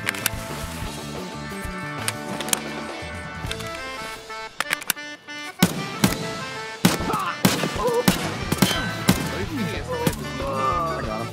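Rapid bursts of gunfire in the video game Escape from Tarkov, sharp cracks in clusters over a busy background of game sounds and music, with some talking.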